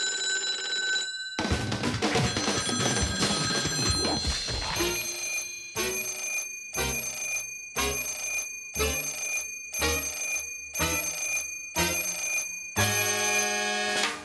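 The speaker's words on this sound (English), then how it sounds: "we could always count on that phone to ring" A telephone in the Sam & Max video game rings repeatedly in regular bursts after a short musical opening, loud and close with no talking.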